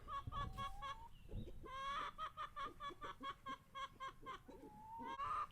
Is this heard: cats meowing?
no